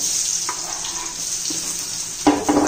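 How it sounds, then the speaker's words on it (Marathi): Diced potato and green chilli drop into hot ghee in a pan, giving a steady soft sizzle with a few clinks and scrapes from stirring, louder toward the end. "तूप गरम झाले। आता आपण चिरलेला बटाटा आणि मिरची घालून घेऊ"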